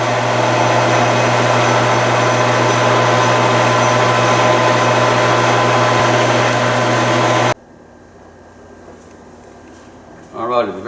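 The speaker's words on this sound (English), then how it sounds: "One more little skim cut, and I'll start the recess on the crown." A lathe takes a light skim cut while shortening a Savage Model 10 rifle barrel, giving a loud, steady motor hum for about seven seconds. Then it stops abruptly, leaving a quiet room with a brief sound right at the end.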